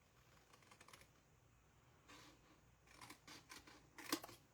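Scissors snip through paper craft pieces in a few clustered bursts of crisp cutting, with a sharper snip near the end, close and moderately loud in a quiet room.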